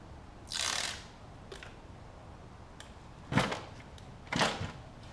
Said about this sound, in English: go ahead and pull the double-sided tape off